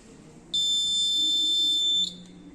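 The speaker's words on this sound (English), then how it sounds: "then the buzzer will start alarming" A laser security system's loud, steady high-pitched electronic buzzer alarm sounds for about a second and a half, then cuts off abruptly, leaving faint background hum.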